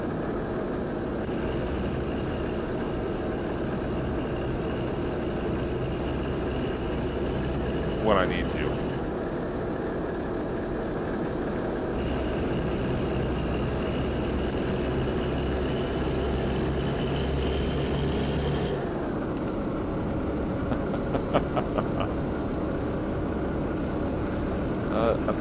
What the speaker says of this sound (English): the engine that comes with this thing is actually pretty powerful